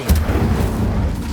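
Incendio fire spell cast in Hogwarts Legacy, a short loud burst of deep booming whoosh with a rumbling low-end blast.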